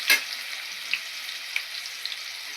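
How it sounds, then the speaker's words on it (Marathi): Chopped onion frying with garlic in a pan gives a steady, close hiss and sizzle, with a few light clicks of stirring and no talk. "थोडस फ्राय करून घ्यायचा कांदा"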